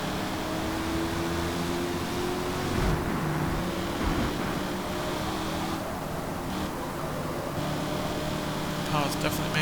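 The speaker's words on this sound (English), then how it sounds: "Definitely hear that supercharger." A supercharged car engine in the Forza Motorsport racing game roars steadily with a sustained whine, rising and shifting in pitch as it accelerates, while a voice talks over it.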